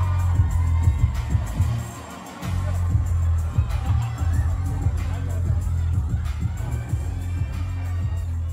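A crowd of celebrity attendees and fans at a music event cheers and shouts over a thumping, pulsing performance track, with lively hubbub throughout and a brief dip partway.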